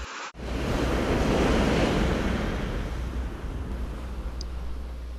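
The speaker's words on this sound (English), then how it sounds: "The sound of the waves can be a quiet lapping of miles of sparkling sandy beaches" Ocean waves wash along the California coast in a loud, continuous roar of surf, with wind buffeting the microphone throughout after a brief quiet start.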